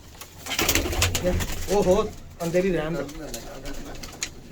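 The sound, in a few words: pigeons cooing in loft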